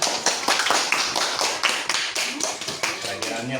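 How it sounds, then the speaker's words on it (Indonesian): A burst of group clapping in a classroom lesson, sharp claps blending into steady applause, with voices faintly underneath toward the end. "Tepuk tangan."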